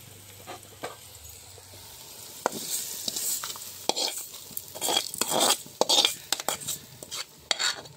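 Ingredients for mor kuzhambu sauté in a pan with steady frying sizzle, punctuated by sharp scrapes and clinks of a spoon stirring against the metal, growing busier and louder toward the end, with no talking.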